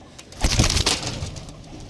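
A pigeon coos once in a soft, rolling burst, close by, fading into quiet background noise.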